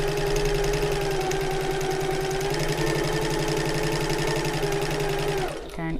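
Domestic sewing machine back stitching along a bag seam, a steady fast rattling hum running continuously and close, stopping abruptly near the end.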